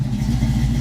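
A Pontiac Firebird engine idles steadily after a jump from a battery charger, giving a low, continuous rumble with a slight rough pulse, close and fairly loud throughout with no talking.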